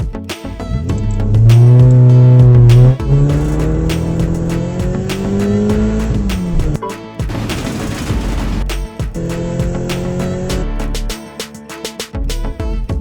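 A toy car plays loud electronic engine-revving and racing sound effects, with rising whines and screeches in a few bursts and a brief pause midway.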